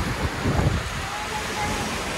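Open ocean waves and wind at sea, recorded from a boat, form a loud continuous rush of surf with gusty wind buffeting the microphone.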